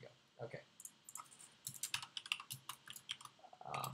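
Someone types on a computer keyboard while editing Vue.js code, making irregular bursts of close, crisp key clicks that speed up toward the end, with faint voice sounds in places.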